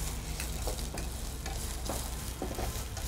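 Chopped onions fry in hot oil with ginger, garlic and chilli for veg fried dumplings, giving a loud, continuous hiss and crackle with faint stirring scrapes, close up and without speech.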